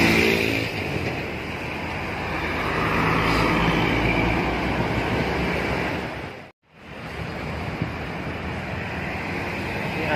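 A tour bus passes along a roadside where many buses go by, making a loud, steady broadband roar that fills the clip. The sound cuts out briefly near the middle, then the roar continues.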